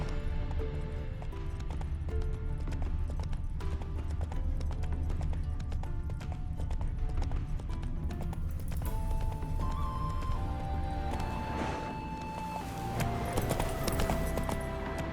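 Hooves of the horse Roach in The Witcher 3 keep up a steady, close clip-clop while game music with held notes rises over them, with a brief whinny-like flourish near the end.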